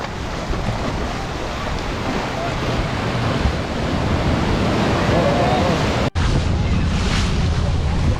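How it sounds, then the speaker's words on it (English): Rough ocean surf crashes at Divorce Beach in Cabo San Lucas, a continuous loud roar of breaking waves mixed with wind buffeting the microphone, with a brief dropout near the end. "it's really cool to just see the waves and watch them"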